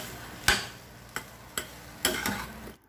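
A spatula knocks against a pan while pork fried rice is stirred, four sharp clacks at uneven intervals over a faint sizzle before the sound cuts off.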